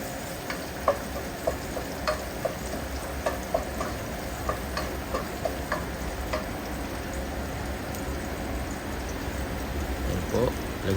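Garlic and onion sizzle and fry steadily in a pan while being sautéed for bistek tagalog, a continuous close crackle with light stirring ticks throughout.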